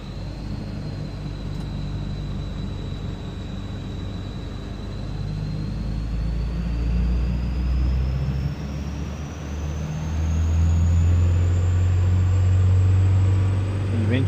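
Isuzu NPR truck engine on a dynamometer during a full-power pull, a steady engine drone whose low rumble swells and grows louder toward the end, with a faint whine above it; no one talks.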